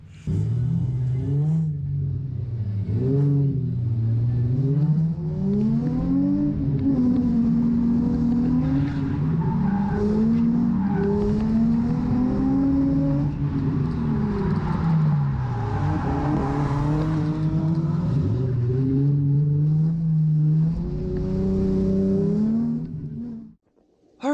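Cars at a drift event, including a Mazda Miata running close behind, with engines revving and rising and falling loudly through turns alongside tire squeal, a long sustained roar.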